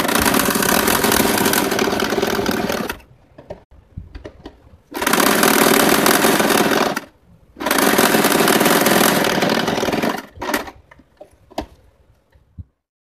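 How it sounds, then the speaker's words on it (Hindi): A sewing machine stitches pieces of a homemade cloth bag in three loud, close bursts of rapid mechanical whirring, separated by pauses filled with soft clicks and fabric handling, with no speech. "इस तरह से हमने नीचे वाला हिस्सा दोनों फ्रंट के हिस्से में सिल दिया"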